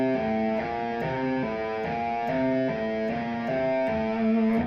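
An electric guitar plays a fast, smooth legato lick in continuous 16th notes, a repeating four-note grouping with shifting accents, moderately loud and alone without talking.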